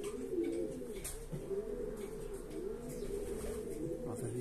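Pigeons coo in a low, steady, rolling murmur that runs throughout, close by, with a few faint chirps above it and no talking.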